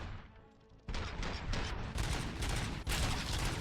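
Gunfire in the RoboCop: Rogue City video game, loud repeated bursts of shots in quick succession after a quieter opening, continuing densely to the end.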